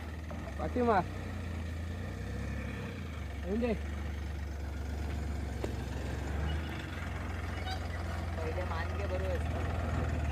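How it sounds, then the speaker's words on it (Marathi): A tempo truck's diesel engine rumbles in a steady low idle close by, running continuously while people talk over it. "फायनली मंडळी आपला टेम्पो तर आलेला आहे"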